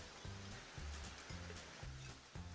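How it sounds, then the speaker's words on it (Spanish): Sudden tropical rain falls in a humid Panamanian rainforest, a steady, faint hiss around a car with a low, pulsing rumble underneath and no voices. "Aquí llueve de repente."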